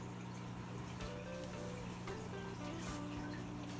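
Water runs continuously during an aquarium water change for angelfish fry, a steady close splashing flow over a low constant hum.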